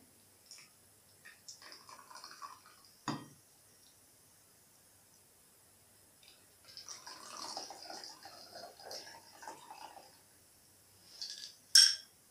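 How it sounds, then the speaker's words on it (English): A drink is poured over candy floss in a martini glass, giving faint, intermittent trickling and soft splashes with a few light glassy clinks, then a sharp clink at the end, close by in an otherwise quiet room. "simply pour the drink over the candy floss"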